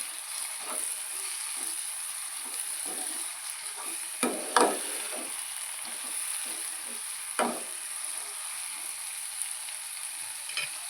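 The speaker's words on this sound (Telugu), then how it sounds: "నేను 2 టమాటాలు, మీడియం సైజ్ టమాటాలు కట్ చేసి పెట్టుకున్నాను. వేసేసుకొని బాగా కలపాలి." Chopped medium tomatoes go into a chicken curry base, which fries with a soft, steady sizzle while a spoon scrapes and stirs in a few louder strokes; no voices.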